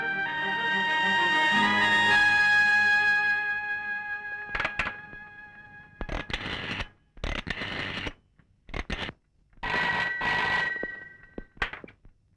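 An old telephone bell rings at a police station in a Malayalam film scene, a loud sustained ring followed by a series of short, evenly spaced bursts of ringing separated by silence.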